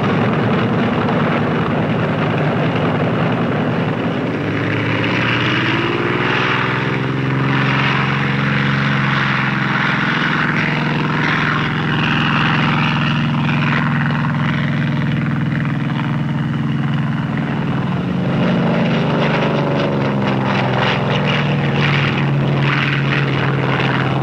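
A Grumman F6F Hellcat propeller fighter plane taking off in the 1940s, a loud continuous roaring engine drone with throbbing propeller tones, close and sustained throughout with no talk.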